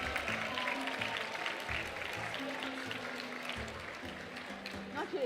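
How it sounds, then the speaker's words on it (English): Applause from a conference audience for the President of South Africa at an international women judges' gathering in Cape Town, fairly faint and washy, with music and voices running underneath throughout. "give him another round of applause for honoring us with his presence"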